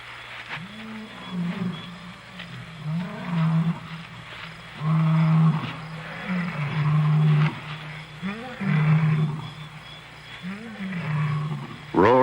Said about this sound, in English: Roars in the night can mean danger for the pride.